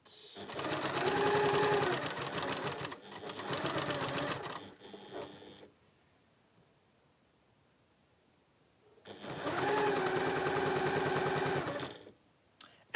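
A sewing machine stitches a quilt block in two long bursts of fast, steady whirring, then stops for several seconds before a final long run. Each burst has clear stitch pulses and sounds close.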